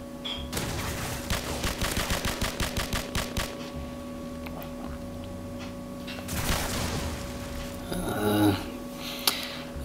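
Gunfire in the Call of Duty 4 video game, with rapid bursts of automatic shots early and later scattered shots and an explosion-like blast over a steady game hum.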